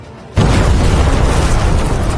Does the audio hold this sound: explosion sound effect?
yes